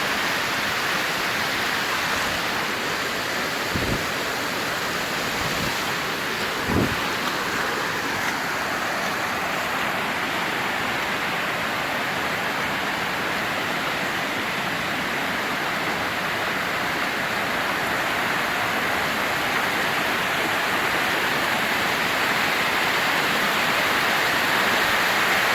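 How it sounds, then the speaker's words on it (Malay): A waterfall deep in the forest of North Aceh gives a constant, loud, close roar of falling water that holds evenly throughout, with a couple of faint low thumps early on and no voices. "Banyak air terjun."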